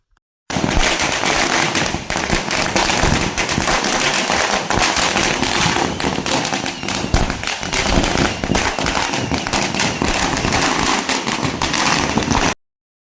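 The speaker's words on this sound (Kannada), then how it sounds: "ಕಾರ್ಯಕರ್ತರು ಪಟಾಕಿ ಸಿಡಿಸುವುದರ ಮೂಲಕ ಸಂಭ್ರಮಾಚರಣೆಯನ್ನು ಆಚರಿಸಲಾಯಿತು" A long, dense string of firecrackers bursts nonstop at a party workers' celebration outside the JDS office in Mysuru, rapid sharp pops rattling together loudly and close for about twelve seconds before stopping abruptly.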